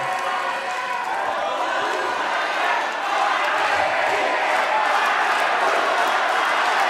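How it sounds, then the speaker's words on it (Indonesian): Audience at a final gubernatorial candidates' debate in West Java applauds the four candidate pairs, a steady, dense wash of clapping and crowd noise that holds throughout at close, full volume. "Boleh kita kasih tepuk tangan untuk keempat pasangan calon."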